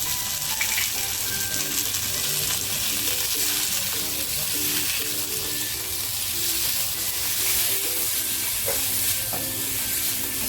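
Cooked onion goes into a frying pan of gravy for a dhaba-style potato curry, giving a steady close sizzle with intermittent clinks of stirring, and no talking.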